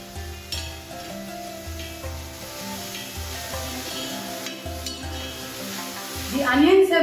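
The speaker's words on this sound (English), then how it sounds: "I'm going to saute these onions till they are beautifully caramelized and golden" Onions sautéing with a teaspoon of salt in a pan for a home curry, giving a steady loud sizzle with repeated stirring scrapes, close up and without talk.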